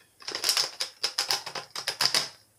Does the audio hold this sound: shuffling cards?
yes